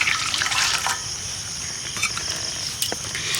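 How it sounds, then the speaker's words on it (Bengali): A bowl of water poured into flour while kneading dough for tandoori roti, a bright splashing trickle that runs steadily for a few seconds with small spatters, close and fairly loud. "বাটি জলটা আমি দিয়ে দিচ্ছি এখন বাটির মধ্যে"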